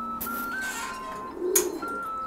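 Newly hatched squabs, Seven Star pigeon chicks in a home loft, give soft thin cheeping calls in short tonal phrases, close and fairly quiet, with one brief rustling burst partway through.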